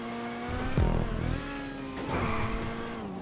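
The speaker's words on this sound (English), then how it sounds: "It's the classic sports car of the Raptor." In GTA 5, a Raptor sports car races with its engine revving and shifting, the pitch climbing, dropping at a gearchange, then rising again, loud and close with other racing cars around.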